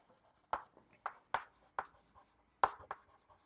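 Chalk or marker strokes on a lecture-hall board, several sharp taps and scrapes in irregular bursts with quiet gaps between, close and fairly faint, with no talking.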